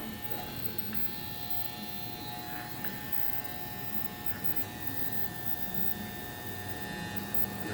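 Andis Masters hair clippers, freshly sharpened, hum and buzz steadily at low volume throughout, a continuous electric drone with no pauses.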